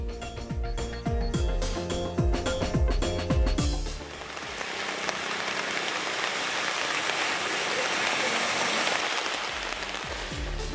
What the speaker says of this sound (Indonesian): hujan deras mengguyur Jabodetabek